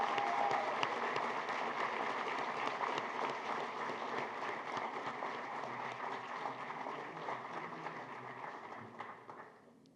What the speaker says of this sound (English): Please join me in giving a great round of applause to Harnett County